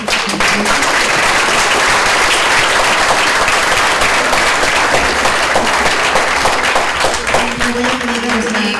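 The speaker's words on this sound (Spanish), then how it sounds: "Le brindamos un aplauso a la doctora Miriam." Sustained audience applause following a lecture at a university keynote conference, dense and steady clapping filling the room for several seconds with a faint voice briefly underneath.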